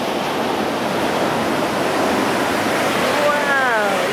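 Sea waves wash up a beach at high tide in a steady, loud surf roar with constant rushing hiss, and a brief whistling sound near the end.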